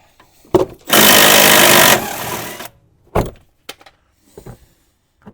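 A wrench is worked on an 18 mm nut on a car, beginning with a sharp knock, then a loud sustained mechanical whirr for about a second, followed by scattered metallic clanks and taps, close up, with no speech.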